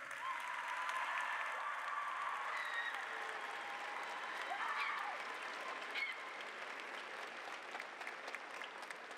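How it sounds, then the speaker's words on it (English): Audience applause at a community college commencement ceremony, a broad sustained clapping from a large crowd that holds steady for the full stretch and tapers only slightly near the end. "please give a round of applause to the faculty and staff of St."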